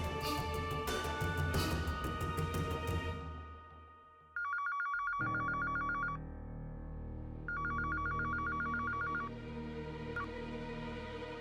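An indoor telephone rings in repeated electronic bursts, the first ring cut off as the scene shifts, followed by two more clear rings over a low background hum.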